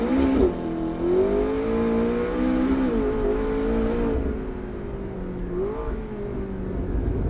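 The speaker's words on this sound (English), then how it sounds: "The 650S sounds at its very best though, with the roof up and the little aero screen behind its seats down." A McLaren 650S Spider sports car engine with the roof up and rear aero screen lowered, revving loud and close, pitch rising and dipping through several throttle blips over a sustained drone.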